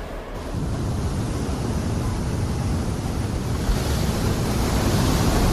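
Heavy ocean surf and buffeting wind roar steadily around the Korean icebreaker research ship Araon as it enters Antarctic waters south of 60 degrees, a dense, continuous wash with no voices.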